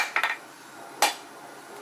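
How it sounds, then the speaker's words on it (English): Hammer blows on a 3/8 steel bar held over the edge of an anvil in a blacksmith shop: a quick double strike, a pause, then two more sharp single clangs, fairly close and with no talk. "And hit it with your hammer cap on, half off."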